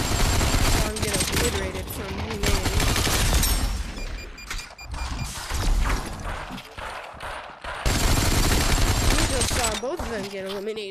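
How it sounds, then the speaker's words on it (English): Uzi gunfire in a battle royale video game, loud rapid bursts and broken volleys that come and go over about eleven seconds, mixed with other game sounds and people talking. "these Uzis are so powerful"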